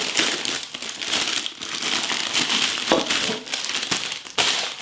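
Plastic packaging crinkles and crackles continuously, close up, with irregular rustling bursts and no speech.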